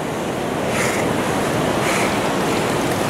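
River water rushes over sand in a steady, loud, broadband wash, with gusts of wind noise buffeting the microphone and no voices.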